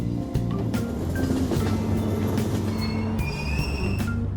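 A train pulls through Aoyama Itchome station in the Persona 5 video game, loud and continuous, with a steady low rumble, layered tonal hums and a high metallic squeal toward the end, no voices.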